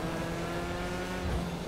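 A McLaren Senna 2019 supercar in GTA 5 holds a steady, loud engine drone for under two seconds, with a brief rise near the end as it revs or passes close.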